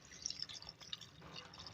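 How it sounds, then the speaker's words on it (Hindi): Water trickling and dripping into a pot of cooking spinach and potatoes, a quiet liquid patter with small splashes that runs steadily through the moment without any voices. "तो इसको पूरा गलाने के लिए हम 1 कप पानी डालेंगे।"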